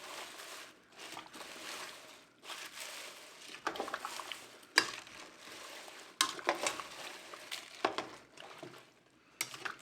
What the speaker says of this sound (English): We're going to keep mixing it all in.